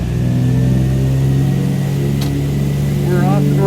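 Twin radial engines of a DC-3 airliner in Microsoft Flight Simulator 2020 throttle up for takeoff, a steady loud droning roar with layered harmonic hum that holds constant throughout.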